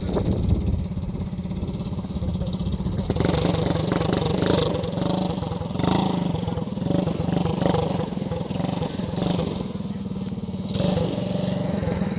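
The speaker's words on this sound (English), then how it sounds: "We're gonna freaking do some more sick donuts." A barn-find vehicle's engine roars and revs while it does donuts. The loud, rough, uneven engine note rises and falls, with clattering and voices underneath.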